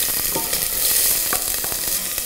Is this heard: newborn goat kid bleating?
no